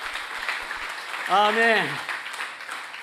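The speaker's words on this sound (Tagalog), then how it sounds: "Isa pa pong palakpak para sa Diyos." A church congregation applauds at a worship service, a steady wash of clapping with a single voice calling out briefly over it.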